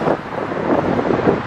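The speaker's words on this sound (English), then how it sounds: "I'm sorry about the wind noise." Steady wind buffeting a handheld microphone outdoors on a very windy day near a village bus stop, a continuous loud rumbling roar with gusty swells and no speech.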